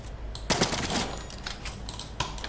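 A weapon in Fortnite fires in a quick series of sharp, close shots, with a clustered burst early and a few more cracks after it.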